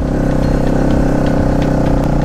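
A motorcycle carrying riders along an off-road stony dirt route, its engine droning loud and close with constant rumble and light rattling clicks over the rough track.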